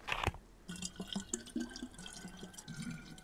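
Water pours and splashes as a bottle is emptied out in the DayZ video game, a close liquid gurgle with drips that runs steadily for a few seconds after a short bump, with no talking.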